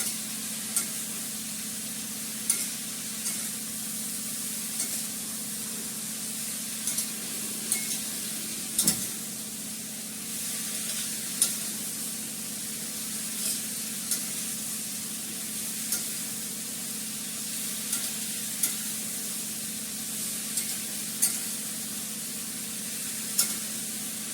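Ginger paste, ground black pepper and spices being stirred and fried in a pan, with a steady low sizzle and regular soft scraping strokes of the spoon recurring every couple of seconds, close and fairly quiet, no talking.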